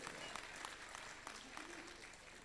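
An audience applauds in an assembly hall at an honour ceremony, a steady wash of many hands clapping heard from some distance and fairly faint throughout.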